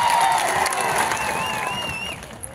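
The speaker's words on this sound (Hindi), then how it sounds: "एक बार जोरदार आपके लिए तालियां बजा दी जाए" Crowd applause and cheering from an audience at a World Indigenous Day rally in Banswara–Dungarpur, a dense sustained roar of clapping that fades slightly over a couple of seconds.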